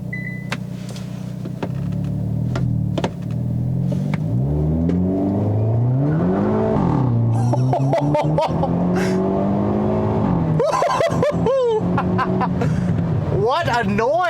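A 2022 Hyundai Elantra N turbo sport compact sedan revs hard through its sport exhaust, rising and falling engine pitch with crackles and pops near the end, loud and close.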